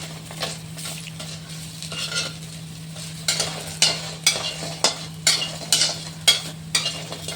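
Vegetables fry in a pan while a spatula stirs them, a soft steady sizzle broken by repeated scraping strokes that grow louder and more regular in the second half, with a low steady hum underneath.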